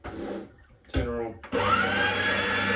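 A machine used to pump venison sausage meat starts up and runs steadily and loudly with a whirring motor drone, after brief bursts of speech.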